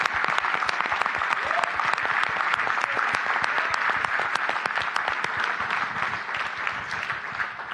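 Attendees at the table tennis federation's annual general meeting give a birthday round of applause, a dense, steady, loud clapping that runs throughout without a break.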